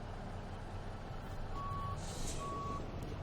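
A Peterbilt 377 semi-truck reverses in American Truck Simulator. Its backup alarm gives two steady electronic beeps over a low, constant diesel engine rumble, with a brief airy hiss between them.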